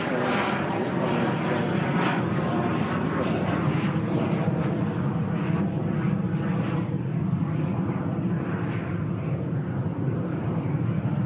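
A fixed-wing airliner at Manchester Airport gives a loud, steady engine roar that holds without a break and dominates the scene.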